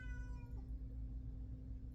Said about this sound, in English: He sits by the door and meows because he wants out